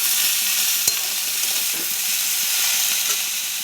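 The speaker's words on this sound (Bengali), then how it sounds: "নাড়াচাড়া করে ভেজে নিলাম।" Food frying in a pan while being stirred, a constant loud sizzling hiss with soft repeated scrapes of a utensil and one sharper knock near the start.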